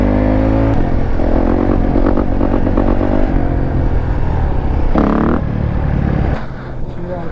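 Honda 150 dirt bike engine riding at a steady coasting pace, a continuous close motor drone with brief revving swells and rattling clatter, tapering off at the end.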